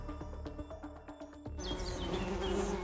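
A swarm of honeybees buzzing at the hive, a dense continuous hum that swells louder halfway through, close and steady with no voices.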